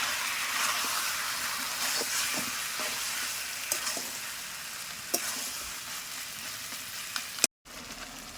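Spices and young goat mutton sautéing in a pan for a Bengali mutton curry, with a steady sizzle and frying hiss throughout and occasional stirring scrapes, close and continuous, no talk.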